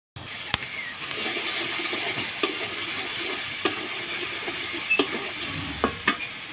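Spices sizzle and fry in a pan for a lentil curry with fish, a steady soft hiss broken by occasional scrapes and taps of stirring, fairly quiet and close.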